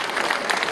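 A brief burst of audience applause at a salon event in honour of volunteers, dense clapping heard loud and close for under a second.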